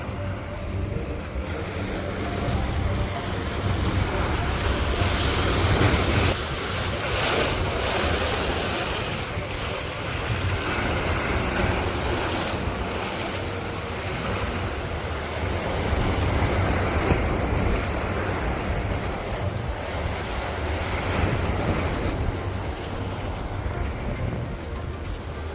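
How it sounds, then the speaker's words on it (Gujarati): Ocean waves roll onto a sandy beach in America, a continuous loud surf wash with swelling breakers and strong wind buffeting the microphone throughout. "અમેરિકાના દરિયા કિનારે પહોંચી ગયો."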